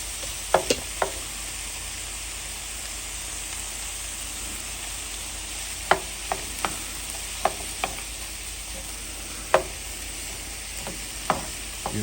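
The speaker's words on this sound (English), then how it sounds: "Give that a little stir." Minced garlic sizzling in a pan with a little kosher salt, a steady close hiss broken by sharp, scattered clicks of a spoon stirring.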